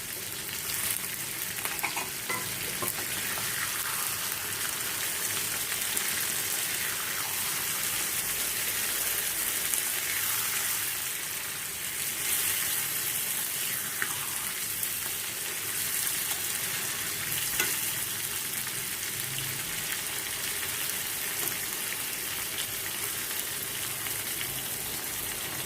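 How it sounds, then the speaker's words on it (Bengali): Small shrimp sizzle steadily in hot oil in a pan for mustard prawn with potato and pointed gourd, with scraping stir strokes now and then over a continuous, fairly loud frying hiss and no talk. "এরপরে কুচো চিংড়িগুলোকেও দিয়ে দিচ্ছি। একটু ভাজা ভাজা, অল্প একটু সতে মতো করে নেব"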